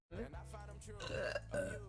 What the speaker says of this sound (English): I burped in my clip and I burped right now.